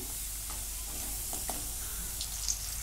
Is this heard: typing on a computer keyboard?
no